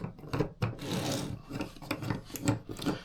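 A file rasps along the sharp milled edges of a Jorgensen No. 60-1/2 block plane, a close, short series of gritty scraping strokes in an uneven rhythm.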